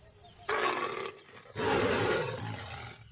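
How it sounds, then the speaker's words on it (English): A lion gives two deep, loud roars. A short one comes first, then a longer sustained roar follows a brief pause, heard close with no talking. "Both male and female lions roar, and the males can be heard 5 miles away."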